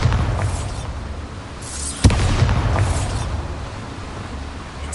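A Bombarda blasting spell detonates in Hogwarts Legacy, one sharp booming explosion in the middle cutting through a steady, rumbling game soundscape, with no talking.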